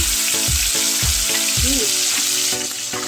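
Onion fried in about two tablespoons of hot oil in a wok gives a loud, continuous sizzle, with a string of low thumps and a brief tonal squeak over the crackle, and no talk.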